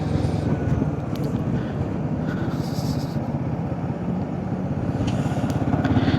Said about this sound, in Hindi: इस समय अपनी बाइक जो है वो 3000 आरपीएम पर चल रही है, चौथे गियर पर है